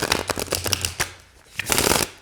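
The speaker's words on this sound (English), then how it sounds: "let's see how they shuffle" A deck of oracle cards being shuffled by hand, close and crisp riffling bursts in quick succession, a short pause, then another longer flurry.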